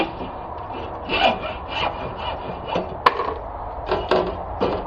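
A hand saw cuts ladder line spacers from pipe in quick, uneven back-and-forth rasping strokes, close and fairly loud, with a sharp click partway through.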